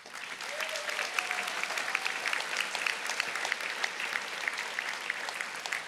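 A commencement audience gives parents and family members a long, steady round of applause, a dense wash of many hands clapping at once with no break.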